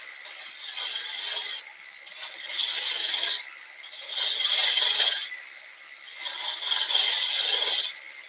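Lathe tool cutting waste wood from a turned tenon at a live public woodturning demonstration, giving four long raspy scraping passes with short pauses between them, steady and close.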